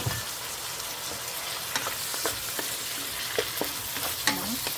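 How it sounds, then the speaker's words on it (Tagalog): Beef, broccoli and soy sauce stir in a frying pan, a steady sizzle broken by scattered clicks and scrapes of a utensil against the pan, close and even throughout. "maglagay ng toyo or soy sauce at haluin ang mga ito"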